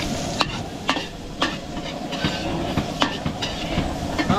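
Garlic and onion frying for palabok sauce in a catering kitchen, a steady sizzle under repeated scraping strokes of a spatula or ladle against the pan.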